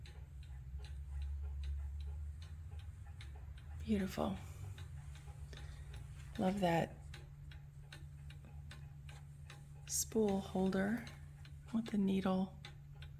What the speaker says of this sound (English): You can hear the clocks probably ticking in the background.